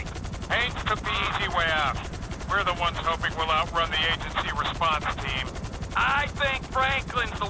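Helicopter in GTA 5: a steady, close rotor thrum runs throughout with a fast chopping pulse, while a voice talks over it in several bursts.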